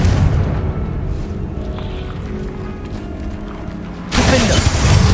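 Confringo fire-blasting spell in Hogwarts Legacy, a continuous booming rumble with scattered impacts, then a sudden louder bright burst of blast noise near the end.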